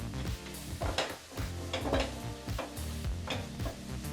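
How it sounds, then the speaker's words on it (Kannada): Capsicum frying in a pan for a street-style pav bhaji, a steady close sizzle broken by regular scraping stirs and light clinks of a spatula on metal, with no voices. "ಈ ರೀತಿ ಕ್ಯಾಪ್ಸಿಕಮ್ನು ಸೇರಿಸಿ ಒಂದು 2 ರಿಂದ 3 ನಿಮಿಷ ಫ್ರೈ ಮಾಡ್ಕೋಬೇಕಾಗತ್ತೆ"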